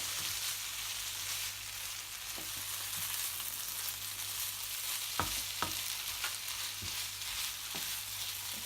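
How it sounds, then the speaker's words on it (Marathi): Paneer sizzles and fries in a hot pan with spring onion for bhurji, a steady bright crackle broken by a few sharp scrapes and taps of a spoon stirring, with no voices. "पनीर आहे ते टाकायचं आहे। ढवळून घ्यायचं चांगलं।"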